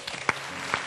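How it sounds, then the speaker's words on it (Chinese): An audience applauds briefly, a handful of scattered, fairly close claps over a low room hum. "我们为丹丹鼓鼓掌"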